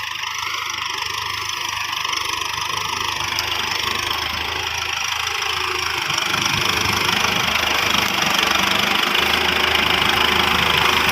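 A Kubota M6240 tractor works a field with a disc plough digging up cassava, its diesel engine droning steadily and loudly throughout, with faint knocking and rattle from the implement and no talking.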